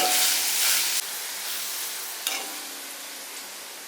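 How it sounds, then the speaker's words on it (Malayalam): Radish pieces frying in hot oil while being stirred, a bright sizzle with bursts of louder scraping and hissing that settle into a steadier fry, close up and without speech. "അപ്പൊ ഇനി നമുക്ക് തുടർച്ചയായിട്ട് ഇളക്കി കൊടുത്തിട്ട് ഒരു ഗോൾഡൻ ബ്രൗൺ ആവുന്ന വരെ നമുക്കൊന്ന് വെയിറ്റ് ചെയ്യണം"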